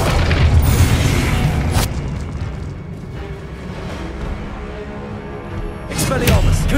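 A fiery Confringo spell explodes in the Hogwarts Legacy video game, with deep booming bursts at the start and again near the end and a rumbling lull between them, while a voice is also present.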